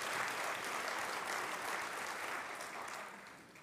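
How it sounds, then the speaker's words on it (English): Steady, even applause from a large audience at an education summer institute session, a continuous wash of clapping with no talk over it, tapering slightly at the end. "So clap again."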